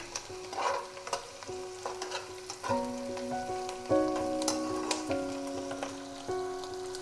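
Onion and capsicum fry in a pan for chilli beef, a soft crackling sizzle with occasional stirring clicks, heard under a steady melodic background music.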